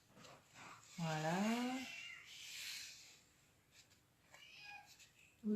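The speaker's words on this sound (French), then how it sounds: "Vous entendez peut-être le petit chat qui a faim" A hungry kitten gives one clear, rising-falling meow near the start, followed by fainter little cries, with a person talking quietly around it.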